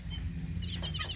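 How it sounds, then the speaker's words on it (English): A feather-footed chicken in a backyard garden gives soft, brief clucks and chirps over a steady low outdoor background hum. "Look at my feathered-footed chicken"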